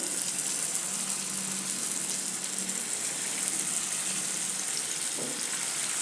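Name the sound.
raw potato breakfast mixture frying in hot oil in pan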